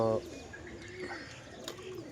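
Quiet, low cooing of pigeons on a rooftop rolls along after a brief voice at the start, gentle and steady.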